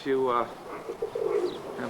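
Pigeons cooing inside a breeding loft, soft throaty coos rising and falling over about two seconds, fairly close, with faint background murmur.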